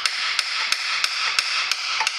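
A hammer taps in a gearbox seal on a 2010 Ford Fiesta with light, evenly spaced metallic knocks, about seven close, crisp strikes in steady rhythm.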